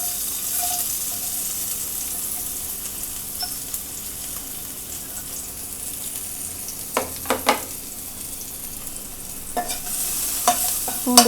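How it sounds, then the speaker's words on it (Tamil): Chopped garlic dropped into two tablespoons of hot oil for an Indian-style masala macaroni pasta, giving a steady close sizzle with a few sharp stirring clatters near the end. "இதில் வந்து நான் நறுக்கி வச்சுருக்க பூண்டு சேர்க்குறேன்."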